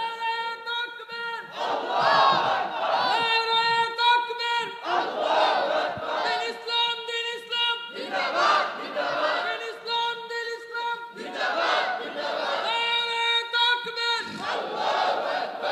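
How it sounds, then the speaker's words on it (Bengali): A large crowd at an Islamic religious sermon chants takbir (Allahu Akbar) in unison, in loud, sustained, rhythmic waves of many voices answering a preacher. "নারে তাকবীর দিলে একটু ভালো করে দাও।"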